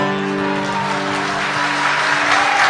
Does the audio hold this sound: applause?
yes